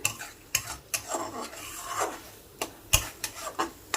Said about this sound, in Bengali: তবু আমি আরেকটু নাড়াচাড়া করব।